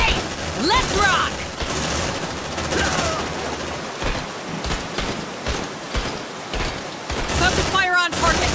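Dense gunfire bursts in the sci-fi squad combat game Aliens: Dark Descent, rapid crackling shots overlapping with a noisy rain-like wash and shouted voices throughout.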